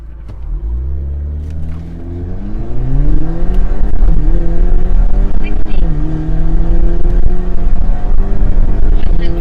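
A car engine revs up and accelerates close by, pitch climbing through gear changes, loud and steady with no talking.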